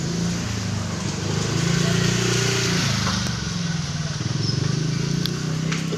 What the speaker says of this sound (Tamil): கிளம்பியாச்சு பைக் எடுத்து கிளம்பி